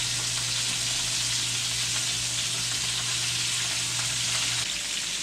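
Bacon-wrapped chicken tenders fry in a pan with a dense, steady sizzle close by, continuous throughout, while a low hum under it cuts out near the end.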